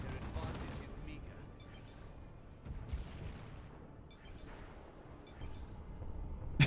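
Manticore artillery shells hitting a Razorback tank in Dawn of War 2, a rolling series of booming explosions and gunfire bursts from a busy battle, fairly constant with louder hits near the end.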